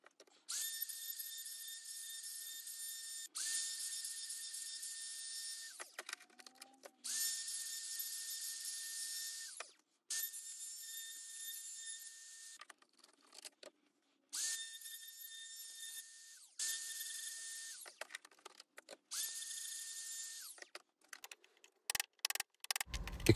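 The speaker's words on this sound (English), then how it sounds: "cutting out all the tenons for the cross braces on the table saw, and then finished them off with the router to get a perfect fit" A handheld router trims small wooden tenons for the cross braces of a rocking Moses basket, giving a steady high whine in repeated bursts of about three seconds separated by short pauses, with faint clicks and taps between cuts.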